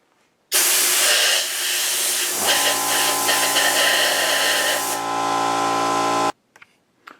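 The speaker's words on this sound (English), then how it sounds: "Now I'm going to take my air compressor and blow out the holes." Air compressor nozzle blowing dust out of holes drilled in concrete for anchors: a loud, steady hiss lasting about six seconds with a tonal hum joining midway, cutting off abruptly, then a couple of faint knocks.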